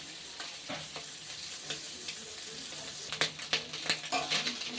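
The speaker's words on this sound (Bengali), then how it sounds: "দেখুন মাছটা কিন্তু আমার ভাজা হয়ে গেছে।" Shrimp frying in hot oil on high heat, a steady close sizzle with sharper crackles and pops bursting through in the last two seconds.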